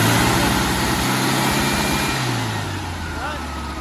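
A VW engine fitted with a restored 1931 Schebler DLX76 carburetor drops from a high rev and settles into a steady, loud, close idle drone, with someone talking over it.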